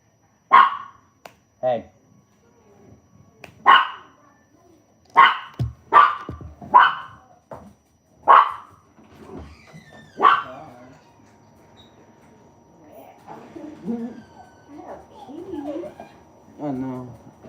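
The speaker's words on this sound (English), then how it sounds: "Prince just barking the bark because like the neighbors" A dog named Prince barks in a string of sharp, moderately loud woofs spaced irregularly over several seconds, followed by a person talking quietly.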